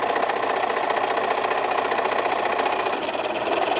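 A sewing machine runs steadily at close range, stitching a drawstring bag seam with a regular foot and a stitch length around 2.4, a continuous even hum without pauses.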